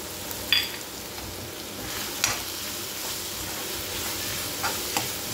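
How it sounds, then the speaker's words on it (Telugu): Onions, tomatoes and ginger-garlic paste fry in a pan for a bitter gourd masala curry, giving a faint, steady sizzle broken by a few soft clinks of stirring, with no talking. "ఈ ఉల్లిపాయలు, టమాటాలు, అల్లం వెల్లుల్లిపాయ పేస్ట్ ఇవన్నీ బాగా మగ్గిపోతున్నాయండి"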